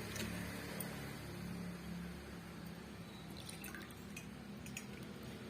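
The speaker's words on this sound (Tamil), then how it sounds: "இப்போ நான் வந்து தண்ணியில் வந்து அலசி காமிக்கிறேன்" Water splashes and trickles close by, with a few light drips and swishes as a clay lamp is rinsed. A steady low hum runs underneath.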